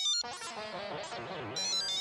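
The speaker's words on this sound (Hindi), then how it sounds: "फोन बज रहा है" A phone rings in a lively indoor comedy scene, a dense electronic ringtone melody running continuously and loud for about two seconds with no talk over it.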